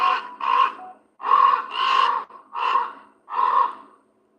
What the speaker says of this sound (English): But that's a raven. Communication with another bird that's flying with it.